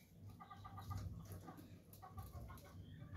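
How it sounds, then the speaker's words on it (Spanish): Chickens cluck steadily near a house, with overlapping calls from several birds at moderate distance over a low farmyard background and no talking. "en mi casa los pollos siempre andan ahí, cerca"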